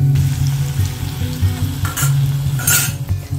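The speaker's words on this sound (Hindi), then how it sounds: "सिम आंच पर 1 मिनट के लिए ताकि मखाने हमारे बिल्कुल क्रिस्पी हो जाएं।" Makhana (fox nuts) frying in oil over a low flame until crisp, giving a steady close sizzle with light stirring scrapes and a couple of brighter crackling bursts, no voices.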